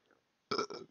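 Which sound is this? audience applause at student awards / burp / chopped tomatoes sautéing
burp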